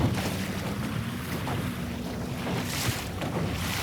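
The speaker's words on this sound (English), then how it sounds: "now that we're getting out in the middle of the lake, wind's having a little bit more time to build up speed" Steady wind rushing over a small Sunfish sailboat out on an open lake, a constant broadband roar with faint water lapping beneath, close and continuous with no talking.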